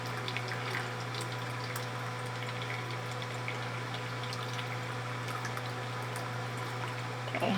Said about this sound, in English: we're gonna transfer this to the other container and make sure that no lumps is. We're gonna be straining it.